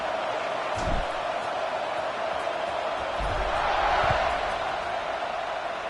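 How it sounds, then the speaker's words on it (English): Crowd in an NCAA football stadium buzzing after a score, a steady distant roar with a few thumps and whoops under a commentator's voice. "this crowd is buzzing after that last score"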